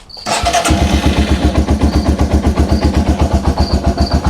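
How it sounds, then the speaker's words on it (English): A Yamaha TW200 motorcycle engine cranks and catches, then settles into a steady, loud, rhythmic idle with a pulsing chug as it warms up. "I'm gonna go ahead and start it up and let the engine warm up"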